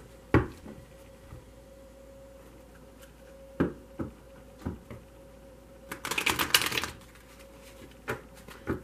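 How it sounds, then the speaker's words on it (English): Close, quiet taps and clicks of tarot cards, then a brief rapid riffle as the deck is shuffled. "This deck doesn't shuffle the best."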